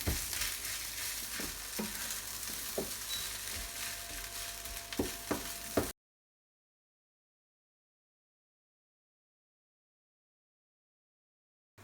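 Mango rice is stirred in a pan, with a soft steady sizzle and occasional scraping knocks of a spoon. Everything goes silent after about six seconds.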